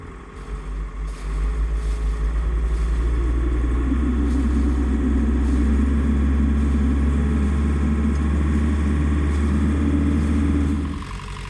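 A fishing boat's engine runs in gear among Greenland sea ice, a deep, steady rumble that climbs as the load comes on, holds a strong even drone for several seconds, then drops back near the end.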